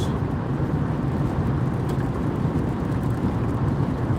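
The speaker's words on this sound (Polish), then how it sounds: "Tutaj nawierzchnia mokra jest. Nie wiem, czy widzicie, zobaczcie. I leje już." Heavy rain pours steadily while a car drives on a wet road in Arizona on the way to Phoenix, a dense, loud, continuous roar of downpour and tire spray with no breaks and no voices.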